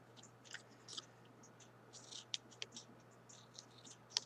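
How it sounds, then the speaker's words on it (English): Scissors snipping small triangles into folded fabric for a cross stitch project, a quiet run of short crisp snips and scratches, some faint and a few sharper, scattered across a low steady hum with no talking. "Take your scissors and cut little triangles"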